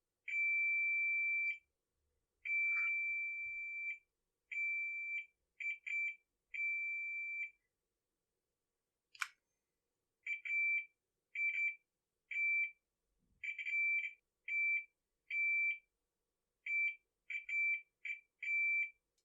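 A multimeter on continuity test emits a series of thin, steady electronic beeps, some long and some short and clipped, repeating in irregular bursts with a single sharp click partway through, no talking.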